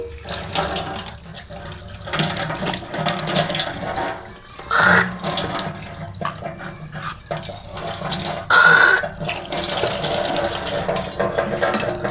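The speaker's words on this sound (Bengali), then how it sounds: "মুখটা ধুয়ে নিই" Tap water runs and splashes as a face is washed at a sink, with uneven bursts of flow and splashing up close and a couple of louder gushes.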